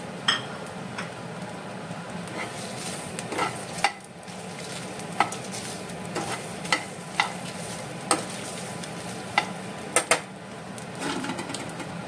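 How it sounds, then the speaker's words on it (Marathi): Roasted masala being stirred into mutton xacuti in a pan, a steady low sizzle with a spoon scraping and knocking against the pan in irregular taps, close and fairly quiet, with no talking. "आनी तो सगळो भाजलो मसालोय बी आनी सगळो घालून आतां ताका मिक्स करता"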